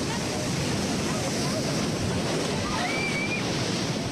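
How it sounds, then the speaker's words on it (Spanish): Ocean waves surging against the coast of the Valparaíso region in Chile, a steady broadband roar of surf lasting the whole stretch, loud and close with wind noise mixed in. "Pero el impacto de las olas ya había azotado la costa de la región de Valparaíso en marzo."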